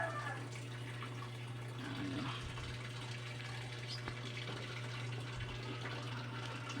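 Water running nonstop into a faulty Whirlpool washing machine that keeps filling and overflowing, a steady gushing flow over a constant low mains hum, close and continuous.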